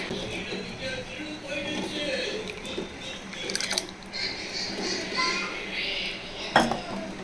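Cooked dal goes into a pot of milagai killi sambar, giving clattering metal-on-pot knocks and scraping of a ladle, with a few sharper clinks amid soft kitchen noise.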